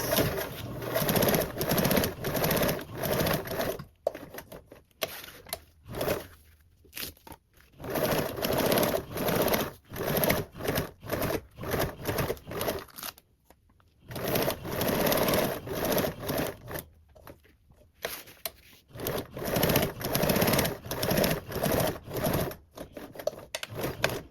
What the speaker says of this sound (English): When you sew them, you can either do back tacking stitches to reinforce the top.